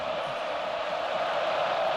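A sellout stadium crowd roars steadily at kickoff of the 2019 Georgia at Auburn college football game on the Plains, a dense, continuous wash of cheering that holds level throughout.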